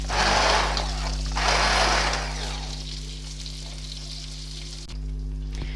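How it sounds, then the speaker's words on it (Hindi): A blender grinds butter chicken gravy until smooth, whirring close by with two louder surges early on before settling into a steadier, quieter motor hum. "इसको थोड़ी देर चलाऊंगी और इसको बिल्कुल इस ग्रेवी को मैं बारीक कर लूँगी।"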